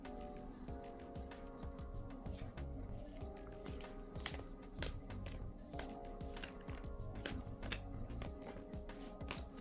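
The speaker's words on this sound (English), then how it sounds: "that's kind of a weird shuffle, so I'm gonna do it again" Tarot cards are shuffled by hand in a steady run of soft riffling and papery flicks, faint and close, with no talking.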